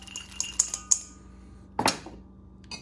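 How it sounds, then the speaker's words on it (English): Almonds for apple cinnamon granola tumble into a bowl of the mixture as a few light, sharp clicks and a brief rattling pour, close and quiet, with stillness in between. "So here's our almonds."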